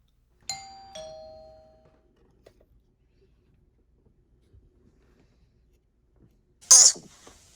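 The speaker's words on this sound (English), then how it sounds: "Diva, ring the freaking doorbell." A doorbell chimes twice, a clear two-tone ding-dong ringing out and fading, followed by quiet and later a short sharp squeak.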